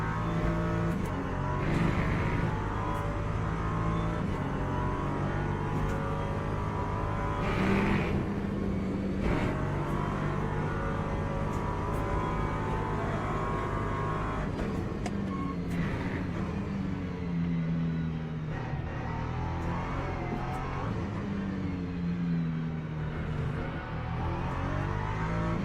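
Race cars in the Le Mans Ultimate sim racing game at Silverstone, with LMP2 prototypes arriving, produce a continuous engine drone with rising and falling revs and gear shifts, cars passing at moderate loudness, no talk.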